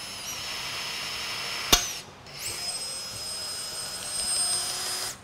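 A cordless blind pop rivet tool whirs, then gives a sharp snap as the rivet sets, followed by a renewed motor whine with high tonal squeals, close and alone.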